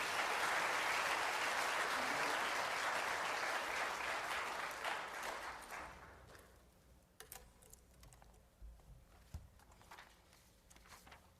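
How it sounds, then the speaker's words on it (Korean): A church seminar audience applauds to welcome an elder to the stage, a warm burst of clapping that gradually fades over about six seconds, leaving scattered taps and room noise. "여러분 박수로 뜨겁게 환영해 주시면 감사하겠습니다."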